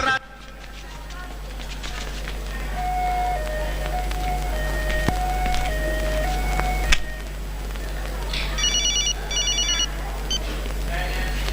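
A phone rings with a melodic, stepped ringtone tune that plays continuously over a steady low hum, with a burst of rapid beeping tones near the end.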